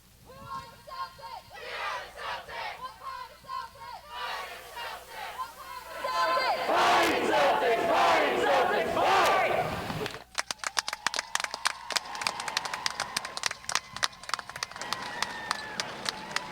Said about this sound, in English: Now let's join together for our final class cheer